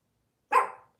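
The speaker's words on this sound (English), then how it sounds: "So she's going to start barking now" A single sharp bark from a dog, close and alone, a short burst after a moment of silence.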